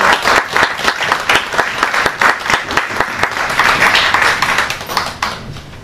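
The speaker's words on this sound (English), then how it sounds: "Please, a round of applause for Miss Maud." Audience applause at a book launch, loud close clapping with distinct individual claps in a brisk rhythm, tapering slightly toward the end.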